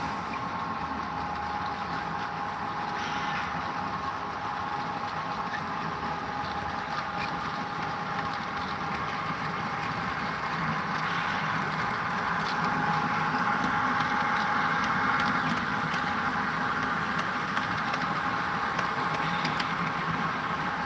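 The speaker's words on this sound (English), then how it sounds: "We got a couple trains coming on the upper level." Model trains run steadily on the upper level of a layout, a continuous motor whir and electric hum with faint rattling, holding at an even level throughout with no one talking.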